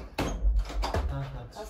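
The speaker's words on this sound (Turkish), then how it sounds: "Kapıyı açsana." A door is pulled open in a village house kitchen with a couple of dull knocks and a scrape, while people talk nearby.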